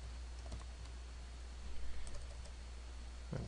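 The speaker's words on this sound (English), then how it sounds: "I'm typing in the dark" Quiet keyboard typing in a dark room, entering values into a 3x3 table: sparse, soft key clicks in irregular bursts, close but faint, with no voices.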